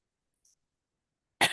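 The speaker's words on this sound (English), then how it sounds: "Every now and then I get one of these little coughs." A single small, sharp cough bursts in near the end after near silence, preceded by a faint brief breath, close to the microphone.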